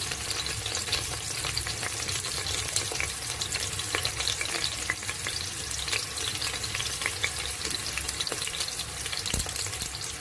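Whole spices and a cinnamon stick fry in hot oil for a bone soup, giving a steady, close crackling sizzle with occasional sharper pops and stirring scrapes, with no voices.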